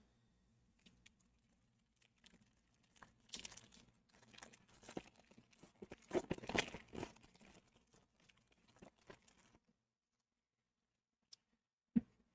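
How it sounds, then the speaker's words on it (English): Crinkling and tearing of a 2022 Donruss baseball card pack, quiet and close, with bursts of rustling foil and paper over several seconds, then silence and a single sharp tap near the end. "Today I'm opening a pack of 2022 Donruss"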